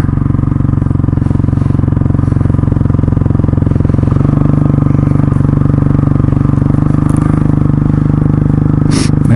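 A small Honda CRF dirt bike rides over icy ground, its engine giving a steady loud drone with a faint shift in pitch partway through and some clatter near the end.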